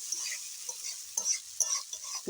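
Pointed gourd frying in a pan with cumin, chili, ginger and coriander paste and green chilies gives a soft, steady sizzle, broken by a few scraping stirs of a spatula.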